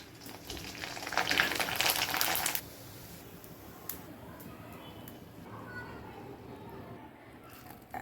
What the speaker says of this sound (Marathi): आता मी कुरड्या तळते.